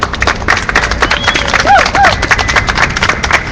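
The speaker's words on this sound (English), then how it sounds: "Can we get another round of applause for Maria?" Crowd applause at an outdoor Greece solidarity rally, lively scattered clapping from a gathered group, with a brief whistle or cheer rising through the middle.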